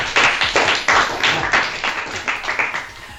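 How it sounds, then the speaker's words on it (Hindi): An audience claps together at a motivational education talk in Hindi, producing a loud run of roughly a dozen sharp, fairly regular hand claps at close range with no talking over them. "सबसे पहले अपने लिए ताली बजा।"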